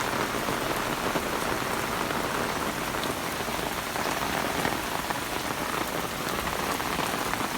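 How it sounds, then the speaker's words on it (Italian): Heavy late-August thunderstorm rain in Sardinia, a dense, steady hiss of downpour hitting surfaces close by, continuous and even throughout with no voices. "oh se piove"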